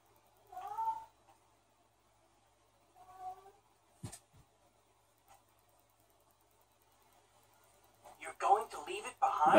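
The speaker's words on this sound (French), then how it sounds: "les chats sont en train de se chicaner dans ma chambre" Cats fighting in a bedroom give short yowling cries in separate bursts, then a loud, close scuffle of screeches at the end, with quiet gaps between.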